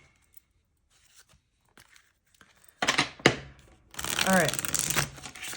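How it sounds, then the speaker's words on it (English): Tarot cards being shuffled during a love reading: quiet scattered taps, then bursts of rapid riffling and slapping of the deck, the longest in the last seconds, with brief speech in between. "That's enough shuffling."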